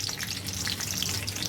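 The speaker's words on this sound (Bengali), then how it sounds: "এর মধ্যে দিয়ে দেবো বাদাম। বাদামগুলোকে ভালো করে ভেজে নেব।" Peanuts fry in oil in a pan, a steady close sizzle with fine crackling that runs throughout the short stretch without any talk.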